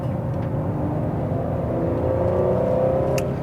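A Mercedes E400 coupé with a 333-horsepower six-cylinder engine hums steadily while driving, a smooth low drone with a faint rise in pitch near the end and no talk.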